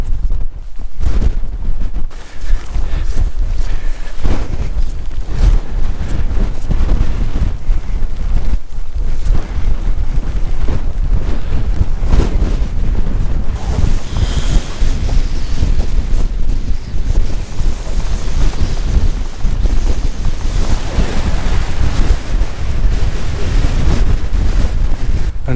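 Strong wind buffets the microphone on a Snowdonia mountain near Aran Fawddwy, a loud continuous roar with gusting surges and no talk.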